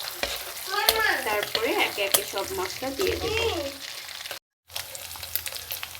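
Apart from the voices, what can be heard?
prawns frying in hot oil in a wok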